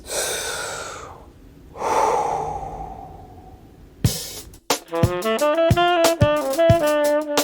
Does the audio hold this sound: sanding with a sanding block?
no